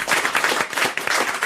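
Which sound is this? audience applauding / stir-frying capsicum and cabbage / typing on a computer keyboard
audience applauding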